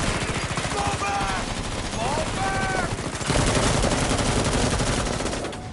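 Sustained automatic gunfire in Metal Gear Solid V: The Phantom Pain, rapid rattling bursts that continue nearly nonstop and grow denser toward the end, loud and close, with a few shouted voices mixed in.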